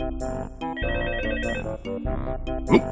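A telephone rings in short, repeated electronic bursts with brief gaps between them, loud and close, with no talking over it.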